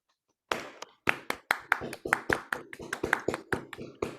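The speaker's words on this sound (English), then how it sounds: "let's give a warm round of applause to Ravi Sawhney" Scattered applause from video call participants who unmute to welcome a guest speaker, sharp separate claps starting after a brief silence, some from several people at once, irregular and close like laptop microphones, with faint voices mixed in.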